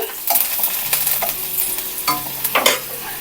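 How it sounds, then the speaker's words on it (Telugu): Small cut garlic cloves frying in hot oil in a pan for chicken 65, crackling and sizzling up close while a spoon scrapes and stirs in short bursts, no voices. "దాంట్లోనే నేను తొక్క తీసుకొని చిన్నగా కట్ చేసుకున్న వెల్లుల్లి రెబ్బల్ని వేస్తున్నాను అవి కొంచెం ఫ్రై అవ్వాలి"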